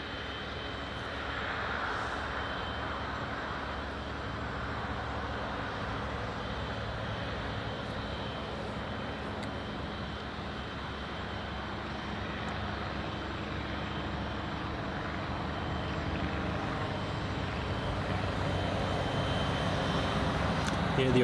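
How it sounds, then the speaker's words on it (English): An AgustaWestland 109 helicopter starts up on the south side of an airport apron, a steady broadband engine roar and whine that holds evenly and swells slightly toward the end, with no voices over it. "You can hear a helicopter just starting up on the south side as well."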